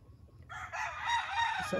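A fighting rooster kept for cross breeding lets out a single loud, drawn-out crow close by, rising after a quiet start and holding strong to the end.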